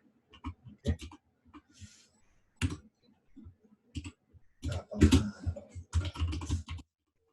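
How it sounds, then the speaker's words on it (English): Fingers type on a computer keyboard in irregular bursts of quick key clicks with short pauses between them, close and fairly quiet, with no one talking. "just keep typing your answer while I type this out"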